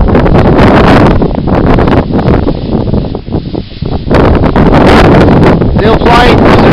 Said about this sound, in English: So, this is getting a nice wind now.